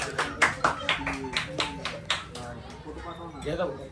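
At a small child's birthday celebration, a run of roughly eight even hand claps rings out nearby while adults talk over and around them.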